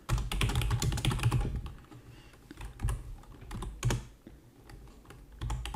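Close-up typing on a computer keyboard while writing a C++ program, bursts of rapid key clicks separated by short pauses, with no talking.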